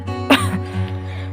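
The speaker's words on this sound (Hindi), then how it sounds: "बीच बीच में खांसी आ जाती है।" A woman coughs once, a short, sharp burst close by, followed by a softer throaty tail over a faint steady hum.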